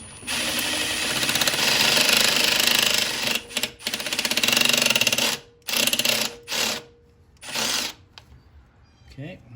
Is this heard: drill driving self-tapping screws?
yes